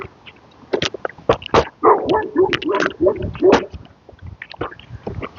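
A dog barks at passersby on a downtown street during a scooter outing, with several sharp barks and yips in close bursts, fairly loud and near, with a little background noise.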